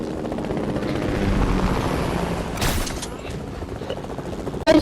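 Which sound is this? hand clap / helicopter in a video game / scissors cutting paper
helicopter in a video game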